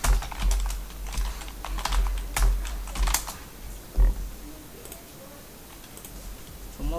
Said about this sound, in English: Is the sound of the keyboard too loud?